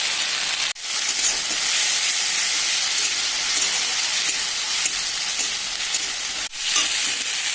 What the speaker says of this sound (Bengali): দিয়ে দিচ্ছি এবার মশলা, আদা রসুন আর শুকনো লঙ্কা একসাথে পেস্ট